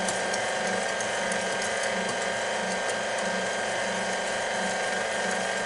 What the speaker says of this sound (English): Give this a whisk to incorporate everything.